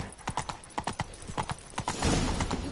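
The horse Roach gallops in The Witcher 3: Blood and Wine, a close, steady run of rhythmic hoof clops with a brief whinny-like rise near the end.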